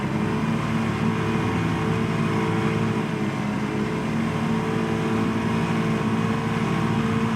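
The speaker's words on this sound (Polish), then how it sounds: "Odpalamy silnik i płyniemy z powrotem" Boat engine in Farming Simulator 22, a steady droning motor hum with a constant even level throughout, no speech over it.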